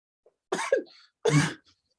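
Two harsh, close coughs, the first broken into a double burst, separated by a short silence.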